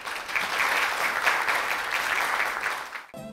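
Audience applause at a Korean university alumni awards ceremony, a steady dense clapping from a large crowd that holds for about three seconds and then stops abruptly.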